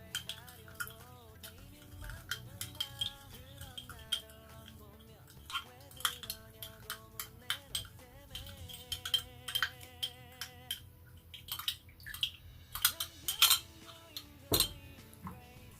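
A utensil stirs vitamin C serum solution with glycerin in a glass container, giving repeated light clinks and taps against the glass in an irregular rhythm, close and soft, with faint background music.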